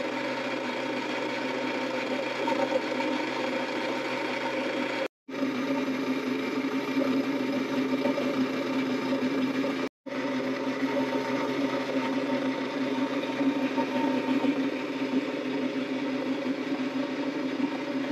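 A nearly 80-year-old vintage cream separator runs with a steady mechanical whir and hum, close and continuous. It is interrupted by two very brief dropouts, and no voices are heard.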